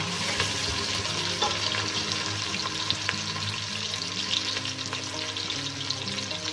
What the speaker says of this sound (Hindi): प्याज़ों को हम लाइट ब्राउन करेंगे, बिल्कुल लाइट ब्राउन करेंगे।